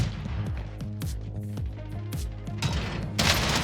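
Rapid bursts of gunfire and thudding shots in a Call of Duty Warzone gunfight on Rebirth Island, dense and continuous at close range, with a sharper, louder burst near the end.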